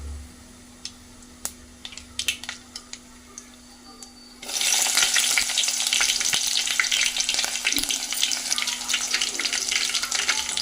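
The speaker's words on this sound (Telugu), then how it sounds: "ఆనియన్ వేసుకోవాలి." Onions tossed into hot oil for a tomato egg gravy curry set off a sudden loud, steady sizzle about halfway through, following quieter clinks and stirring; the frying hiss then continues densely to the end, with no talking.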